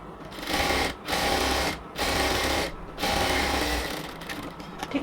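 A sewing machine double-stitching the side seam of a cotton salwar pant runs in fast steady bursts, pausing briefly between runs, close and loud with no talking.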